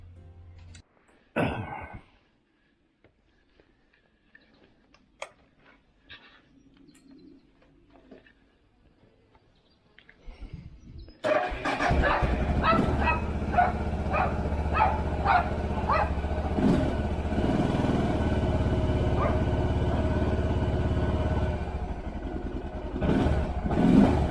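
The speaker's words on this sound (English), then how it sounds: "Chug out the DR650, the ever reliable Suzuki." Suzuki DR650 dual-sport motorcycle starting after a quiet stretch of faint clatter and knocks, its single-cylinder engine then idling and revving in a steady, loud, close rumble for the rest of the clip.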